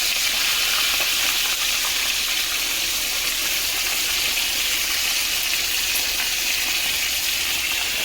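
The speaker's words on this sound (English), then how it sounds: "this is like my only like my third time frying chicken" Chicken sizzles and crackles steadily in hot oil, a constant bright hiss with no talking.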